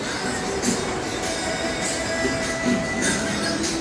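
A Kolkata Metro train pulls into Dum Dum station with a continuous rumbling, hissing roar that holds steady and fairly loud, with faint metallic squeals over the top and no voices.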